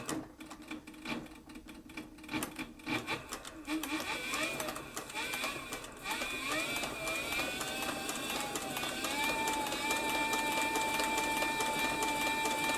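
A sewing machine built for thick leather and saddlery stitches at speed, a close, continuous mechanical whir that starts uneven and ramps into a steady fast run.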